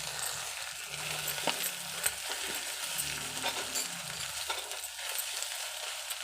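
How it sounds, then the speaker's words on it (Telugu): Ingredients for an Indian egg curry fry in oil in a pan, with a constant close sizzle. Spoon scrapes and stirring knocks break in at intervals, and no one speaks. "ఇప్పుడు ఫ్రై చేసుకుంటున్నాం కాబట్టి కొద్దిగా ఆయిల్ అయితే వేసుకోవచ్చు"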